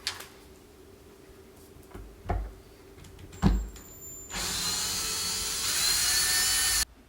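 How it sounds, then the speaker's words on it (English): A few short knocks and clicks, then a power drill whirs continuously at high speed for a couple of seconds, driving screws into a subwoofer driver, before stopping. "So I'm just pretty much resting the drill on it."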